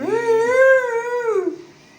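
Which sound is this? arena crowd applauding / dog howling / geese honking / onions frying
dog howling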